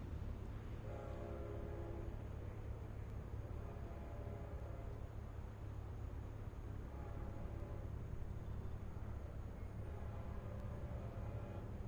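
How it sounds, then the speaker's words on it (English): A Long Island Rail Road train horn sounds in repeated long blasts at the Smith Road crossing near Mastic-Shirley, over a steady low rumble, coming from some distance and recurring through the clip. "You may have heard that horn."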